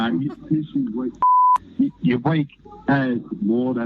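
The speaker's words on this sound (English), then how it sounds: "we had to beep it out there because he used a pretty strong word" A single steady censor beep, about a third of a second long, cuts over a swear word in the middle of close, lively speech.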